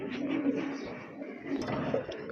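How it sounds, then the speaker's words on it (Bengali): A pair of crested Giribaz pigeons gives soft, throaty coos nearby, a few low rolling calls against quiet background noise. "আরেক জোড়া কবুতর দেখতে পাচ্ছেন গিরিবাজ কবুতর"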